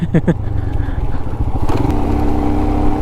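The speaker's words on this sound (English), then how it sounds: "This is the first time I'm driving an Himalayan directly in this area, and this is one amazing bike for sure." A Royal Enfield Himalayan motorcycle engine drones steadily while the bike is ridden on a mountain road between Sonamarg and Kargil, loud and close, with a voice talking briefly near the start.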